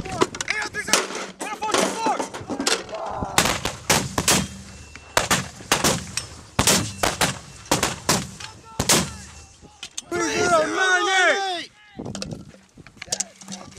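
Repeated loud, sharp firing reports from 81mm mortars on a live fire range, spaced irregularly across the clip, with shouted commands and talk from the crew between and over the blasts.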